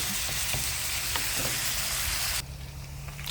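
Bacon fries and renders its fat in a pan with a loud, dense, crackling sizzle that drops suddenly to a quieter, thinner hiss near the end.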